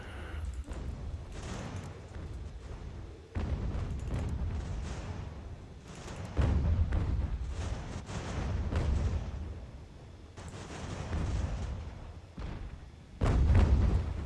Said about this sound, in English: There we go. Some artillery.